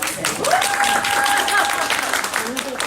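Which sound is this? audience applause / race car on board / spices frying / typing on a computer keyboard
audience applause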